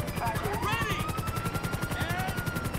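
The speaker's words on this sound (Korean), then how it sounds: "헬기가 들기엔 너무 힘이 모자라." Helicopter rotor chopping with a steady rhythmic beat while straining to lift a heavy load in a GTA 5 Spider-Man mod game, loud and continuous with high whining tones sweeping above it.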